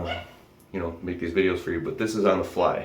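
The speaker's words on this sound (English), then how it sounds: "Sorry about the dog barking in the background." A dog barks repeatedly in the background of a home office, faint and partly buried beneath someone speaking steadily throughout.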